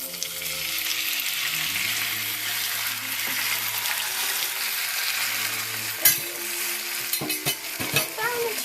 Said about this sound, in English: So now we are ready to fry our chicken.